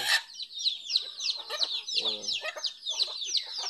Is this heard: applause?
no